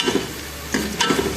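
Crushed garlic tipped into browned onions sizzling in a pan for dal gosht, giving a steady frying hiss with a few stirring scrapes and soft bumps over about a second and a half.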